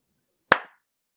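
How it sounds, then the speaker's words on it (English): A single sharp hand clap, close and loud, fading quickly into silence. "Let's do a clap."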